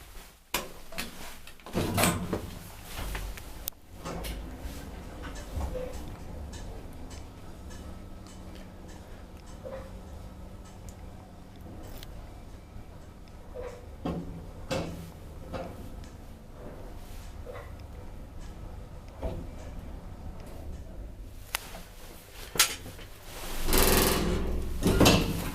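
A rare 1987 Kone traction scenic elevator in a Helsinki building runs with a steady low mechanical hum, with scattered clicks and a louder rumble of the doors opening and closing near the start and end.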